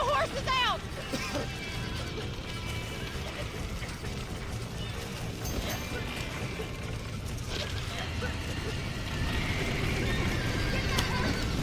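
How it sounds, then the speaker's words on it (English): Horses whinny at the start and again later over hoof clip-clop and a busy noisy background, with voices shouting in the mix. "Now get the horses out!"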